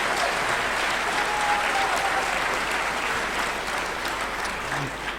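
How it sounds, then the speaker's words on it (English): Audience applauding at a Brexit Q&A event in Bolton, dense sustained clapping from a large crowd filling the whole stretch and easing off slightly at the end. "Oh, go on, give him another round of applause."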